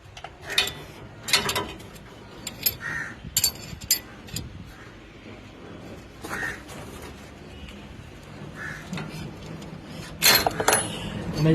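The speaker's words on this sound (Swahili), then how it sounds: "Unaifungua hii spark plug yako hii" A spanner loosens and unscrews the spark plug on a petrol concrete mixer engine. Close, intermittent metallic clicks and ratcheting scrapes come in short irregular bursts, with quiet pauses between them.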